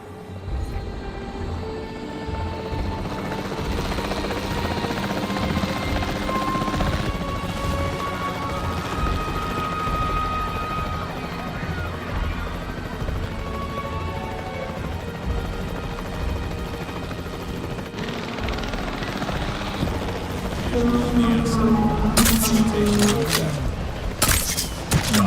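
Capture team helicopter in the Jurassic World video game, a steady rotor drone with engine whine running throughout, joined near the end by sharper bursts that sound like gunfire.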